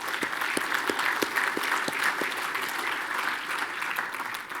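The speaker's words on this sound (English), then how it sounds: "Give him a big round of applause, please." Applause from a conference audience for a speaker about to join a panel discussion on Asia-Pacific payments, dense steady clapping that fills the room throughout and tapers slightly at the end, with no voices over it.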